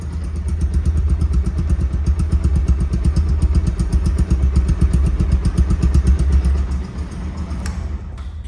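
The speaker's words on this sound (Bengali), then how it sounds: "রানিং অবস্থায় আছে দেখেন সাউন্ডটা কি মিষ্টি সাউন্ড বা স্মুথ সাউন্ড দেখেন একদম স্মুথ" A second-hand Bajaj Pulsar ABS motorcycle idles smoothly nearby, a steady loud low thrum with an even rapid pulse that drops slightly near the end.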